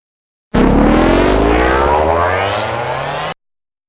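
A car engine roars loudly and steadily for about three seconds, its pitch shifting as it revs, then cuts off abruptly.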